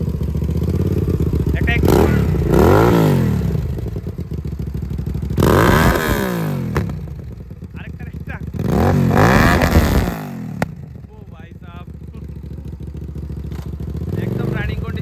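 A 650 cc motorcycle fitted with an aftermarket silencer idles with a steady rumble and rises into several loud revs, each swelling and falling back, while someone talks briefly over the engine.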